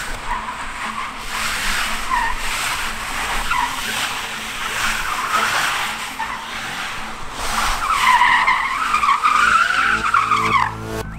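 Tires of a modified Datsun 240Z squeal hard as the car slides out in drift mode, a loud sustained skid with the engine droning beneath and a rising, wavering screech building near the end.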